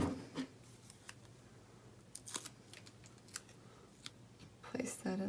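Scissors snip aqua cardstock for a craft tag project in a few short, crisp cuts, close and fairly quiet, with light paper rustling and soft handling noises between them.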